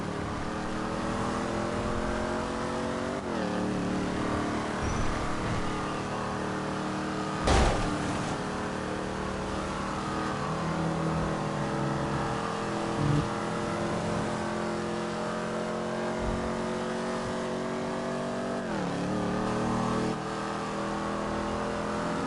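A car drives in GTA 5 story mode, its engine droning steadily with repeated revving upshifts and a couple of sharp bumps, loud and continuous with no talk.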